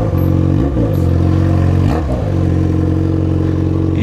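A Yamaha XJ6 motorcycle engine revs loudly and close by, holding a steady throbbing idle-to-mid note with two quick throttle blips that rise and fall.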